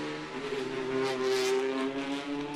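Hyundai Elantra TCR race car heading out of pit lane at the Macau Grand Prix, a loud sustained engine drone with strong harmonic tones rising and falling slightly as it revs.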